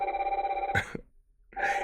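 A rotary telephone's mechanical bell rings in loud, fast-trilling bursts, a long ring that stops, a short pause, then another ring starting up, heard up close with no talking.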